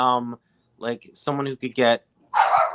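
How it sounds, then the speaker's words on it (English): A pet dog barks indoors in a few sharp yaps and a whine, sounding in short bursts between and under a person talking close to the microphone. "that's my dog barking"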